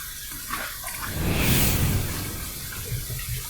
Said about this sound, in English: I'm adding some fresh, clean water to the sink